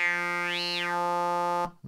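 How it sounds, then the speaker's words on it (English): Arturia MiniFreak synthesizer formant filter oscillator holding a single steady harmonic note with a vowel-like sweep rising and falling in the middle, then cutting off abruptly into short choppy bursts. "Nice Formant filter."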